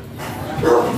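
A Shih Tzu barks once or twice in a short, close burst during a stud session, with a slight rise in loudness toward the end of the second.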